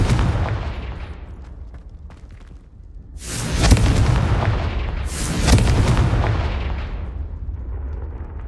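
Two heavy Confringo spell blasts in Hogwarts Legacy boom out a couple of seconds apart over a low rumbling game backdrop, each burst loud and slowly fading.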